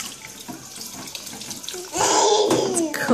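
Cold tap water pours into a bathtub at bath time, a steady rushing splash that grows noticeably louder and fuller about two seconds in, continuing near and alone.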